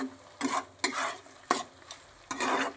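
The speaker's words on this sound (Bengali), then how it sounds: "সবজিটাকে ভালো করে ভাজা ভাজা করে নিচ্ছি।" Mixed vegetables fried in a pan for homemade chowmein, with a utensil scraping and stirring in several separate bursts over a steady sizzle, close and clear, no talking.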